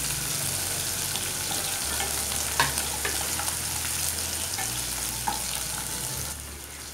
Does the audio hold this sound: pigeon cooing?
no